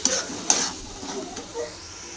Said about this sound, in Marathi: मस्त तळून झालं की आपलं वाटण सुटेस्तोवर चांगला आपण मसाला तळून घेऊ.